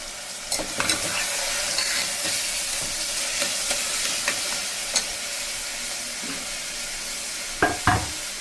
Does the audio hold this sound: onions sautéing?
yes